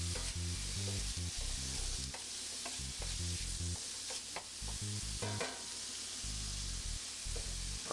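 Chorizo and hash browns fry in a pan with a steady loud sizzle, while a utensil scrapes and stirs through them in repeated bursts, close and continuous throughout.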